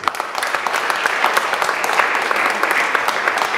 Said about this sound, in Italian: e io accomunerei in un applauso generale anche ovviamente Gianvito Mastroleo